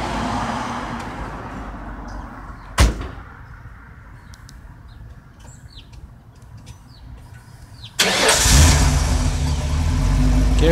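A Mercury Mountaineer engine idles steadily, marked by one sharp bang, then revs hard and loud as it is given gas near the end.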